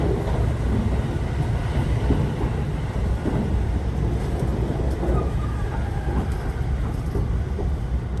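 Steady low rumble and rolling rail noise from a JR West express train as it overtakes a local train, continuous and close from onboard.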